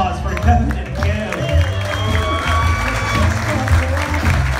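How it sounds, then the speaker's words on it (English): Wedding reception guests at a cake cutting give a round of applause for the couple, with clapping and some cheering over background music and voices. "another round of applause"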